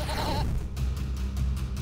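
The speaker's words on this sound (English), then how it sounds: "Wait, we have a goat." A goat in a video game lets out a short wavering bleat at the start, loud and close, followed by steady background game sound.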